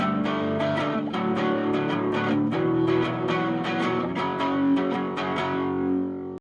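An electric guitar with a distorted effects tone strums a chord progression, each chord struck sharply in a steady rhythm, loud and close, ringing out at the end with no voice over it.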